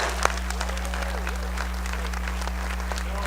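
A crowd at the Gail Rich Awards 2012 claps for themselves, a steady wash of applause with scattered sharp claps over a constant low electrical hum, with no voices standing out.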